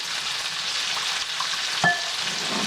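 Beef tips and mushrooms sizzle steadily in a hot pan as they are stirred, a close, even frying hiss with one brief scrape of the utensil near the end.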